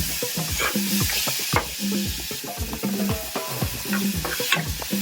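Tomatoes go into a hot pan with a kohlrabi dish and are stirred, giving repeated scraping utensil strokes over a continuous sizzle and frying crackle, close and fairly loud, with no speech.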